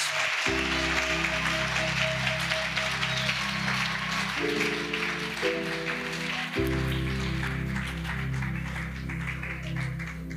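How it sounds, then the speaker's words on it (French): Congregation clapping together at an evangelistic salvation, healing and deliverance crusade in Bafoussam, a dense, steady wash of applause running throughout over sustained keyboard chords. "Let's clap for the Lord Jesus."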